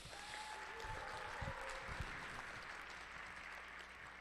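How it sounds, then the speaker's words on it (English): Scattered audience applause at a school jazz band spring concert as a clarinet player stands up, fairly faint and steady over a low hum, with a few louder claps standing out. "I think we should give applause to each one when they stand up"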